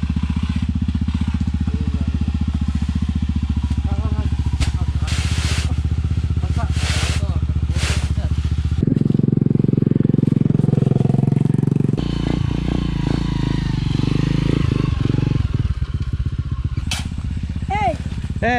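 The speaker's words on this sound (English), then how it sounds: "We need some dirt bikes coming through here." Dirt bikes ride past on a hot, rainy day at a hollow block and cement delivery site, engines loud and close with a rough, shifting roar that swells midway and carries clattering, under voices and shouts.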